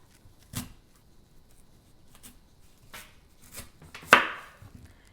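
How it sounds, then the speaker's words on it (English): A knife cuts through large raw guavas in half with a few sparse, quiet chopping knocks against a board, ending in one sharper, louder cut near the end, in a quiet kitchen without talk. "I'm going to cut these guavas in half."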